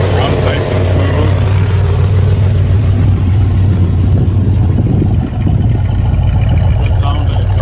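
A muscle car engine runs steadily with a deep, rumbling exhaust at a show, loud and close, with a low idle drone and occasional revs under continuous talking.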